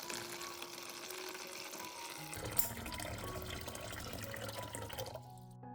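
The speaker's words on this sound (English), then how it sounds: "Pour clean water into a large bowl." Water runs and splashes steadily into a bowl, the pouring growing fuller midway before cutting off abruptly near the end.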